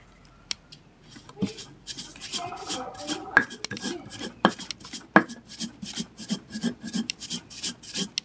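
Coconut flesh rasped against a hand grater, with quiet, close scraping strokes in a steady irregular rhythm and occasional sharp clicks.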